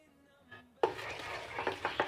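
A spoon stirs sugar into banana muffin batter in a bowl, starting after a quiet moment with close, rhythmic scraping strokes and a few louder knocks against the bowl.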